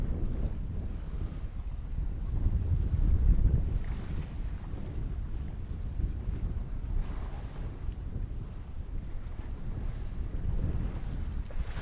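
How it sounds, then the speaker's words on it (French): Wind rushes steadily past a sailboat out on the water, a continuous, moderately loud buffeting roar that swells slightly partway through, with no one speaking. "Ok, le vent remonte un petit peu."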